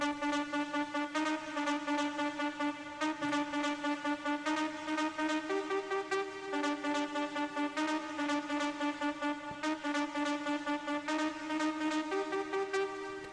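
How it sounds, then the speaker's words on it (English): Synth lead from a ravey techno track: a bright, buzzy, harmonically rich tone repeating a short, simple pattern of pulsing notes in a steady loop, loud and alone. "Next, we have our lead that sounds like this."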